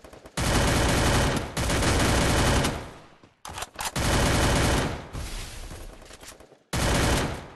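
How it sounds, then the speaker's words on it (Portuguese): Gunfire in the battle game Free Fire comes as loud, sustained bursts of rapid shots, broken by short pauses and a clipped volley near the end. "Deu tiro no mim, Bruno."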